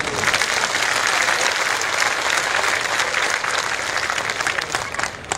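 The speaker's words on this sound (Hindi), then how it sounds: "फिर तो दोनों हाथ ऊपर करके तालियां भी बजा दीजिए जोर से।" Loud, sustained applause from a large audience at a public talk, dense steady clapping that fills the whole stretch with no break and only slight swells in intensity.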